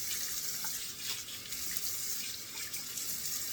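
Water from a tap runs steadily into a sink while soap is rinsed off a face, a close, continuous splashing hiss with faint shifts as hands move through the stream.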